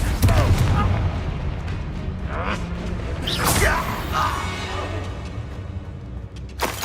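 Confringo blast spell explosions in the video game Hogwarts Legacy, rumbling booms with a bright crackling burst around the middle over busy combat noise, with a voice speaking amid the din.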